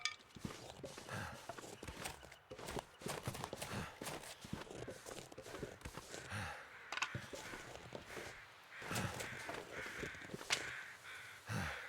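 Crows cawing in the snowy wilderness of The Long Dark, several harsh calls scattered over a steady bed of crunching footsteps and ambient game sound, no talk.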